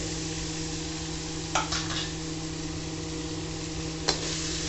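Indian gooseberries (amla) sauté in a pan with a steady, soft sizzle, while a utensil scrapes and stirs twice in brief, distinct strokes.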